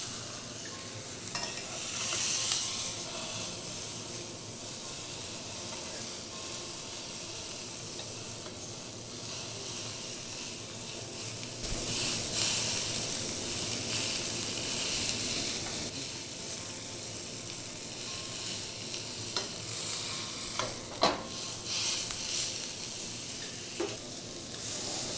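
Herbs sizzle steadily in a hot pan alongside searing meat for a Christmas dinner, a continuous close frying hiss with occasional stirring scrapes and no speech.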